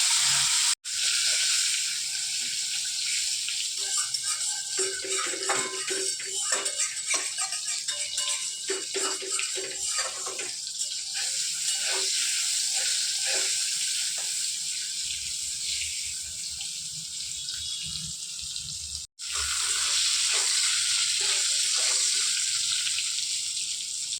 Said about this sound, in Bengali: তো চলো আমি পটলটাকে ভেজে নিচ্ছি